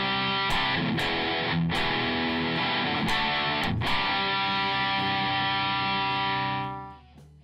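Electric guitar plays a sustained distorted riff through a screamer-style overdrive into a '68 Super Lead Plexi amp model and 4x12 cabinet loaded with Greenback speakers, with a few chord hits before it rings out and fades at the end.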